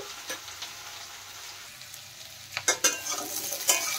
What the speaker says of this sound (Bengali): আর এই আলু আর মূলো কিন্তু একটু ভালোভাবে কষিয়ে নিতে হবে